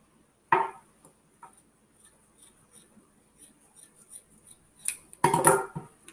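Scissors snip through the bottom of a sock close up, in a crisp cut near the start, then sparse small clicks and a flurry of louder snips toward the end.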